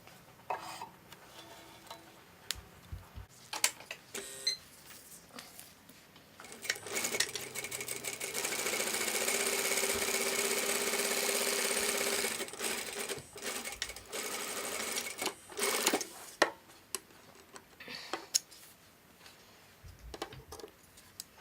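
An industrial sewing machine runs a contrast top stitch in thicker thread, whirring steadily for several seconds in the middle. Brief clicks and handling taps of the fabric and machine come before and after.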